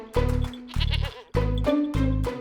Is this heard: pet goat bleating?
yes